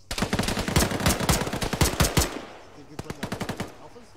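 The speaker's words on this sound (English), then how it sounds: "Do you see where that, those shots are coming from?" Rapid automatic gunfire in the military video game ArmA, dense bursts of close, loud rattling shots for about two seconds, then a brief pause and a second, slightly fainter burst.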